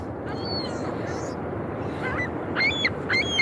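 Seagulls at a beach, several sharp high cries scattered through the clip, growing more frequent toward the end over a constant rush of wind and surf, with people talking.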